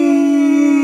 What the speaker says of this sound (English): It's probably coyotes.